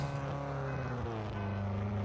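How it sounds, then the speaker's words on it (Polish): A motorcycle engine runs in the video game Unturned, a steady droning hum with shifting pitch, held continuously throughout at an even, moderate loudness. "W tym motocykl jest fajna sprawa do szybkiego przemieszczania się."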